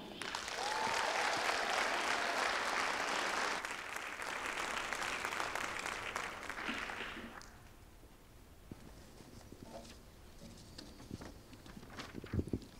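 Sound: audience applause for the master of ceremonies

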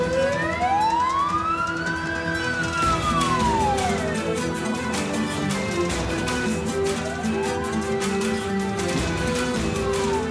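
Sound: ambulance siren

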